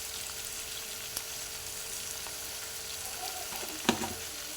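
Poha upma with potato frying in a pan, giving a steady low sizzle throughout with a couple of faint utensil clicks or stirs near the end.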